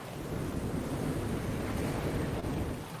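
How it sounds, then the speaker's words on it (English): Light wind ambience from an Unreal Engine 5 game demo built with Wwise: a steady, broadband rushing hiss, constant in level for about three seconds, with no voices over it. "now, as you can see, there is a light wind"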